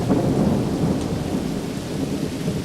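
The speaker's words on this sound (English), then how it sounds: "Of course, it's raining." Steady rain with a low rumble of thunder in a WWII battlefield scene in Combat Mission: Beyond Overlord, a loud, dense wash of falling water and deep rolling noise continuing throughout.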